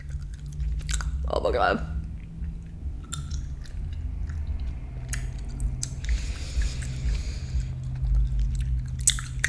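Close, wet chewing and biting of a Bean Boozled jelly bean, with squishy mouth sounds running steadily throughout and a brief startled exclamation early on.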